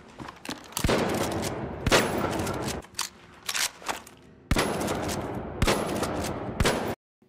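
Close, loud bursts of weapon fire from the video game The Finals, with rapid fusillades broken by short pauses and single sharp shots, ending in abrupt silence.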